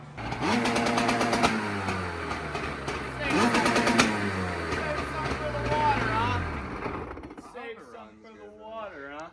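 Dirt bike engine running on a stand with a suspected stator fault, a loud rough idle with revving surges and irregular pops like backfires, with talk heard at the end.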